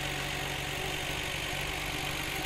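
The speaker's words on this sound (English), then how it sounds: "the idle is not rough at all." Tuned Nissan Skyline GTR R33 engine idling at a steady, smooth rumble, close and continuous throughout with no talk.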